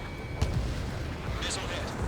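A missile strikes its target in the jet combat game Ace Combat 7: Skies Unknown, giving a short, heavy blast boom followed by a rumbling roar, with faint game radio chatter.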